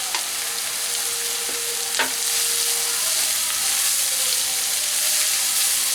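Steady sizzle of 500 grams of carrots frying over a low flame, with a couple of scraping spatula strokes against the pan as they are stirred; no talking.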